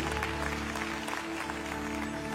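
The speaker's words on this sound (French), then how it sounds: "Give God a great round of applause for that." An audience at a church service claps steadily throughout, a dense sustained round of applause over a low droning hum.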